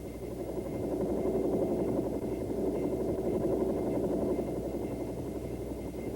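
A Bell AH-1 Cobra helicopter in flight, its engine and rotor making a continuous steady drone with a faint whine above it, even in loudness throughout, no voices.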